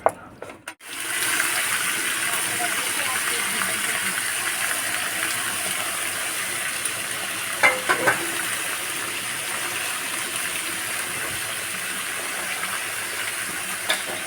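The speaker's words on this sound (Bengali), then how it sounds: "লঙ্কাটা দিয়ে দিয়ে ভেজে দিতে" Chillies fry in hot oil in a pan with a continuous loud, hissing sizzle that holds steady from a close distance. A couple of brief clatters break in partway through.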